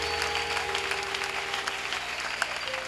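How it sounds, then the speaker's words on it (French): Church congregation applauding during a French-language Sunday service, a dense, steady wash of clapping filling the room throughout, loud and continuous. "Acclamons pour le Seigneur Jésus-Christ."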